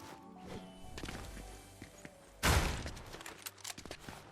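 Footsteps in Fortnite zero build mode, a series of quick soft thuds with a sharp loud impact burst midway, followed by scattered faster steps and clatter.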